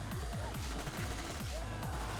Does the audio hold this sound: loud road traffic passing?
no